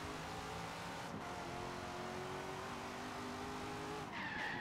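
Race car in Forza Horizon 3 on the Goliath Circuit, engine droning steadily at full throttle with a sustained rising tone and brief tire noise near the end, loud and continuous with no talk.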